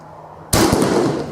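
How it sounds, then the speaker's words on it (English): A shotgun slug fired at a steel plate at 25 yards goes off as one loud, sharp blast and the impact rings out briefly, with no voices. "first shot at a steel plate, just to check for accuracy"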